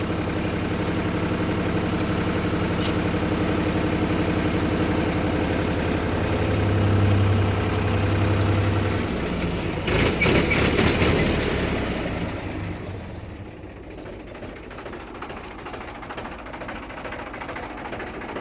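A Mahindra 295 Super Turbo tractor runs with its PTO gear engaged, giving a steady, close mechanical hum and drone that swells briefly, then drops to a quieter, even idle.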